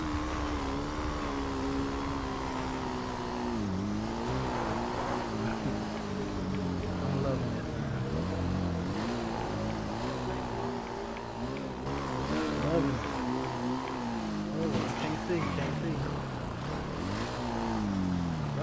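A dirt bike engine revs in GTA 5 while the rider pulls wheelies, its droning, wavering pitch rising and falling continuously for the whole stretch, with a voice talking over it now and then.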